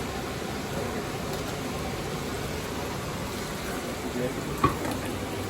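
Bhetki (barramundi) fish and pointed gourd fry in a pan at home, a steady, even sizzling hiss with a single soft knock near the end.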